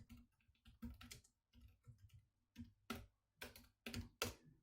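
Bursts of typing on a computer keyboard, quick clusters of key clicks separated by brief pauses, close and fairly quiet.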